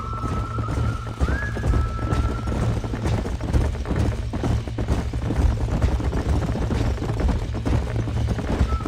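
Horse hooves clip-clopping in Red Dead Redemption, a steady trotting rhythm over a low ambient hum, with a brief whinny early on and no speech.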